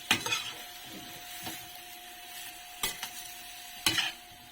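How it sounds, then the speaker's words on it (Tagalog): Mixed vegetables such as string beans and kangkong with shrimp cooking in coconut milk, stirred in a frying pan: a soft sizzle runs beneath several sharp scrapes and clatters of a utensil against the pan, spaced unevenly. "Halo ulit."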